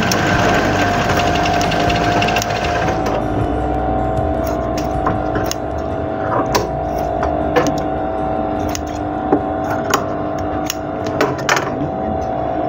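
An electric sewing machine hums steadily while stitching an apron seam, a continuous close whir with small clicks running underneath throughout.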